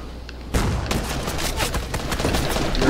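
Rapid Fortnite gunfire erupts suddenly after a quiet moment and continues as a loud, dense volley of overlapping shots to the end.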